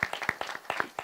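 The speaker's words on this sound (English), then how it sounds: "This deserves a round of applause" A short burst of clapping from a community meeting audience in South Africa, quick irregular hand claps close by with no voices over them.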